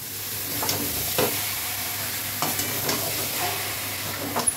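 Bombay duck (loitta fish) frying in a pan with tomatoes, a steady hiss of sizzling oil broken by several soft scraping stirs at intervals.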